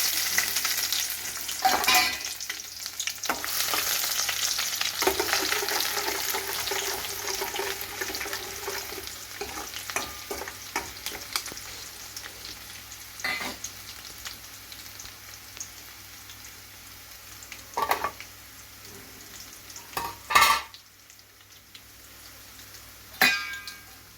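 Chopped shallots frying in hot oil with mustard seeds and garlic for Kerala-style beans thoran, a soft sizzle with stirring scrapes and clatters, louder at first and thinning out, punctuated by sharp utensil knocks, with no talking.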